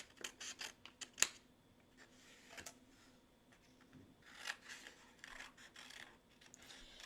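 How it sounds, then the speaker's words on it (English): Scissors fussy-cutting designer paper in a card-making craft session, a series of close, crisp snips in short bursts with pauses between, one sharp louder snip early on, no talking. "So I'm just kind of like fussy cutting some of them out a little bit."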